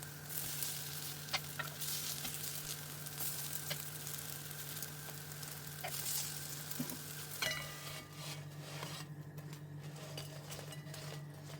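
Cinnamon honey toast bread fries in a pan over medium heat, giving a continuous close sizzle with occasional clinks and stirring scrapes from utensils against the pan.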